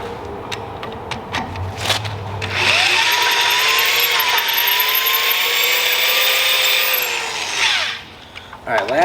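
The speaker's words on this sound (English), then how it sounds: "Wow, gotta love brand new drill bits." A power drill with brand-new bits bores steadily for about five seconds, a loud sustained whine, during repair work on the PTO shaft of an Alamo SHD 88 flail mower, with clatter and handling noise before and after.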